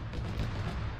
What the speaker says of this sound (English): Are you guys taking BTR fire?